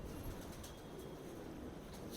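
Pigeons coo softly amid a fancier's flock in Prayagraj, India, with low, murmuring calls over a dense, steady background.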